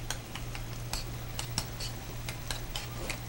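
Tofu nuggets with a little garlic stirred in very hot oil, a faint sizzle with regular light clicks and taps of a utensil against the pan, quiet and steady, with a low hum underneath.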